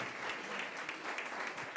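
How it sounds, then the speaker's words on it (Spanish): Congregation applauding during a church service, a steady wash of clapping from many hands filling the room, moderately loud and sustained without pauses. "Dale ese aplauso al Rey."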